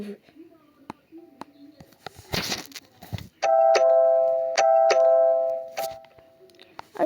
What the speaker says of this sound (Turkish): Çocuklar bakın zil çalıyor.